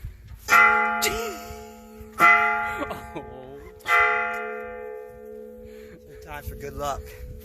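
A bell rung by hand on a mountain hiking trail at an alpine pasture, struck three times at even intervals with long ringing decay, followed by quieter jingling, with a voice heard faintly in the background.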